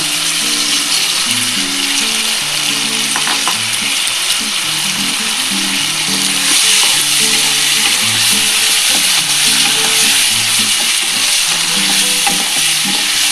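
Fried paneer cubes sizzle loudly in a pan of chilli paneer while being stirred, a dense, constant hiss with scraping strokes throughout and faint music in the background.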